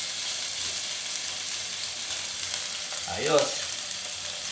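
Salmon fillet fries in a hot pan on a stove, giving a steady loud sizzle throughout, with a brief spitting burst near the end and a short spoken exclamation over it.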